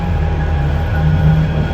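A Manchester tram stands at a platform with its doors opening on both sides, a loud steady low rumble and hum of the idling tram with a faint tonal whine above, no voices.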